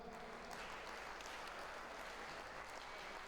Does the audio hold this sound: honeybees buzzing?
no